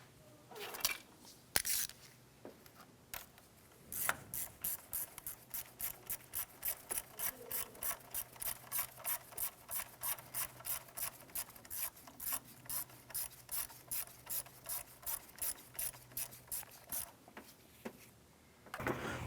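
A ratchet wrench tightening a bolt on a 2004-2008 Acura TL power steering pump, a long, steady run of crisp close clicks in quick even rhythm after a few scattered knocks, with no talking.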